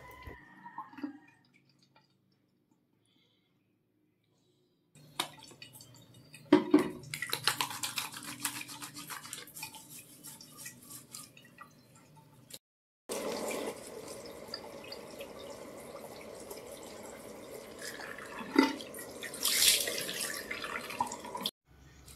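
Water splashes and drips at a sink as a face is washed, with bursts of rinsing and rubbing separated by quiet pauses.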